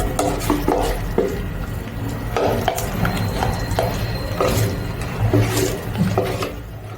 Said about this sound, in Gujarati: હવે આપણે બધું મિક્સ કરી લઈશું. આ રીતે મિક્સ કરી લેવાનું.